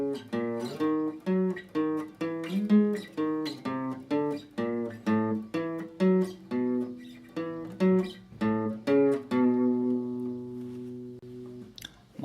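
Opening eight bars of a composition based on tau at 144 bpm, played as a brisk sequence of plucked or struck pitched notes in short phrases, ending on a held ringing chord, with no voices.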